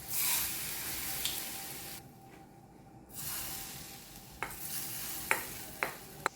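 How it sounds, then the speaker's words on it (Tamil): Mango pickle being stirred in oil in a pan, giving a steady close scraping and sizzling with a few sharper clinks of the spoon against the vessel and a brief quiet gap partway through. "எல்லா பக்கமும் எண்ணெய் படுற மாதிரி கிளறி விட்டுறலாம்."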